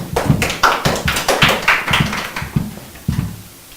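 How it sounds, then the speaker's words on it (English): A class claps for a student during a sales and trading lesson, a quick flurry of close, overlapping hand claps with no talk. "clap for her"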